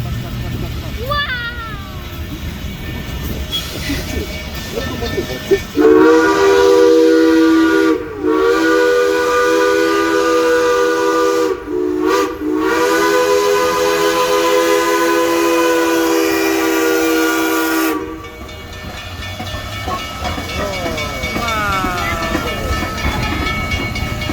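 The Durango–Silverton train rumbles past nearby, its loud whistle sounding in long blasts with brief gaps, then cutting off as the passing noise continues; voices are heard.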